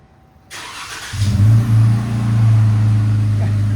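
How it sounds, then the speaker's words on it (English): A 2014 Jeep Wrangler 3.6L V6 with a Borla ProXS exhaust cranks to life, then revs into a deep, throaty exhaust rumble that settles into a loud, steady growl close by. "Jeep Wrangler, the Borla ProXS"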